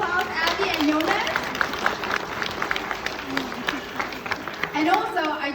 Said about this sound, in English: let's give a big round of applause, Abby and Jonas